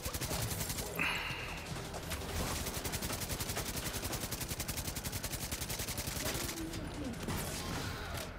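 Heavy automatic gunfire in the video game Division 2 rattles in rapid, dense bursts that run almost without a break, loud and close throughout.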